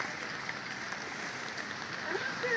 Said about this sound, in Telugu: ఇక్కడ వర్షం పడుతుంది.